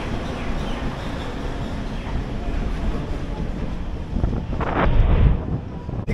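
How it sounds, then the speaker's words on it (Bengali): A DMU local passenger train in North Bengal reversing along the line, a steady low rumble with rushing wind noise that swells louder near the end. "এই যে আমাদের ট্রেন আবারও পেছোচ্ছে"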